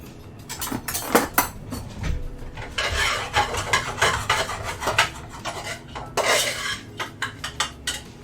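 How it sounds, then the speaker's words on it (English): A spoon stirs onion powder in a metal pan, producing repeated close scraping and clanking strokes in irregular bursts, with no voices over them. "We'll give those a stir up here."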